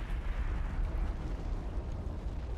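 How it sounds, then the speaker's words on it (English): Heavy, rumbling blast from an Elden Ring explosion, a dense roar of low booms and crackle sustained throughout without any clear break. "Get away from the explosion!"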